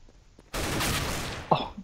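A rifle shot in a competitive Counter-Strike match: one loud, sharp report that decays over about a second, followed by a short metallic clack, with no talking.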